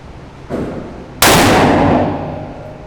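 A shotgun fires at a patterning target 15 yards away, one sharp loud blast with a ringing decay, preceded by a fainter click or thump about half a second earlier.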